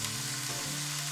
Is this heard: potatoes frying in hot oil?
yes